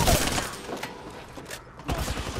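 Gunfire rattles in Apex Legends during a squad firefight, short bursts of shots cracking at moderate loudness over a busy game background, with a brief lull before a final volley.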